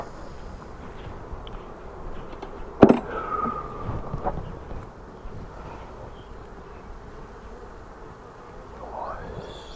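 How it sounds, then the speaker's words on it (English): Steady hum of many bees in a hive packed with bees and honey fills the background, broken by a sharp knock and some clattering handling noises near the start. "So packed full of bees and honey."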